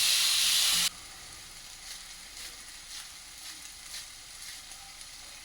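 Green chili and ginger frying in a pan: a loud, steady sizzling hiss for the first second, then a quieter bed of frying crackle with soft, recurring bursts.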